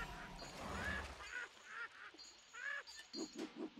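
A big yellow bird boss in the game Flinthook gives a series of short honking, goose-like calls, faint and repeated in bursts, with a quicker run of clipped honks at the end.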